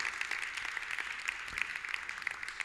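A church congregation applauding, sustained clapping from many hands at moderate distance, fairly even and continuous with slight rhythmic peaks, with no voices over it.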